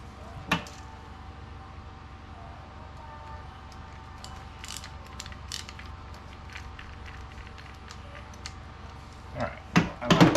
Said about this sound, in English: Let's put another screw in here.